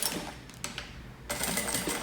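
A straight-stitch domestic sewing machine stitches the edge of a small fabric bag, running in quick mechanical bursts with a brief pause in the middle before resuming at a steady whir.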